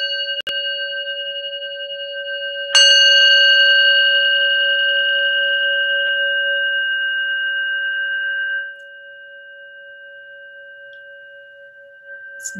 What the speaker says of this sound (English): So this is the small bowl.